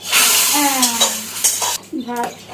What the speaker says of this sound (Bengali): ডাল ফোড়ন দিচ্ছি, আর এক্ষুনি একটা শব্দ হবে।